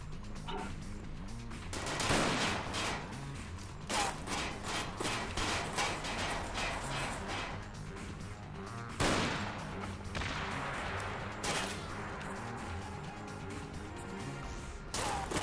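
Assault rifle fire in the video game Mindjack, rapid bursts and single shots cracking at a steady pace over a busy battle backdrop, loud and continuous throughout.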